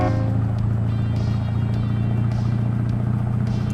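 In a truck simulator game, a Peterbilt 359 with a CAT 3408 V8 diesel engine drones steadily with a deep, even low hum and constant rumble, loud and unbroken throughout.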